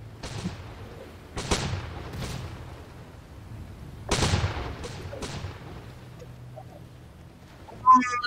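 Ship cannons in a pirate naval video game battle between a galleon and schooners fire in separate heavy booms with rumbling tails, several spaced blasts, one sharp burst at the end.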